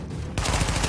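Automatic gunfire from The Division video game erupts abruptly after a quiet moment, a dense, loud rattle of rapid shots continuing without a break.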